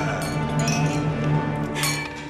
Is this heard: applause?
no